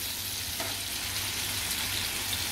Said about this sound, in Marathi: आता ह्या साईडने सुद्धा आपले बांगडे चांगले शिजून घ्यायचे आहेत